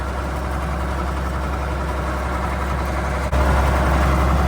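A tractor engine runs steadily through field tillage at about 4.6 miles per hour, a bit below optimal RPM, with a continuous loud low drone that swells slightly near the end and no voices.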